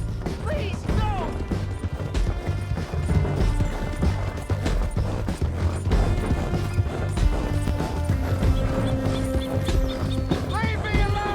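Horse hooves clip-clop in Red Dead Redemption 2, a repeated rhythmic beat under crashes, mechanical clatter, a soundtrack and an occasional whinny, staying fairly loud and busy throughout.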